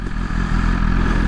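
A BMW S1000RR motorcycle engine runs with a loud, close, throaty drone, holding steady with a slight rise in intensity partway through the short stretch.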